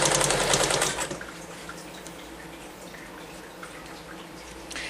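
A sewing machine stitching a denim jeans hem, giving a fast, close rattling run of stitches for about a second, then stopping to a quiet pause with faint clicks.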